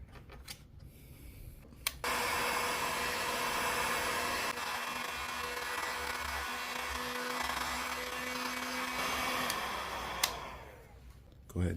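Hot air blower heating the valve cover of a Honda GCV190 small engine, a steady loud rushing whine that switches on abruptly and runs continuously for about eight seconds before cutting off, with faint handling noises around it.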